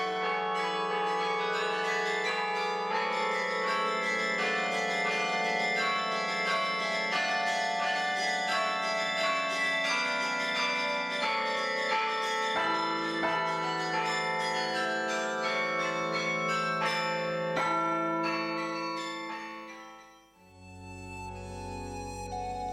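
The 61-bell carillon of Hondschoote rings out a melodic run of bright, overlapping bell tones, clear and resonant, then stops abruptly near the end with a brief low thud.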